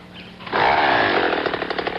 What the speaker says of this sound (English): You see this chainsaw? It's the 9995 Minimac 1. McCulloch made it for just one job.